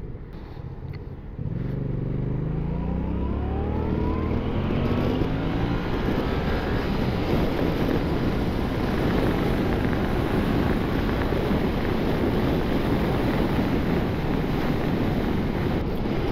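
A Yamaha MT-07 motorcycle engine, recorded from the passenger seat while riding, revs up and runs steadily, rising in pitch as it accelerates, with heavy wind rush buffeting the microphone throughout.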